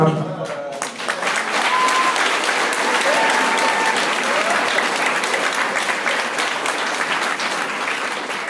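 Sustained, loud applause from an audience at a tribute talk with a novelist at a college, a dense even roar of clapping that starts after a brief moment of voices and holds steady to the end.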